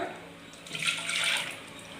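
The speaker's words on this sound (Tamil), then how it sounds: "இதில் வந்து பருப்பு தண்ணி சேர்த்திக்கலாம்" Lentil cooking water poured into a gooseberry rasam, a soft watery splash and trickle that swells for about a second in the middle of the pour and then eases, close and fairly quiet with no talking.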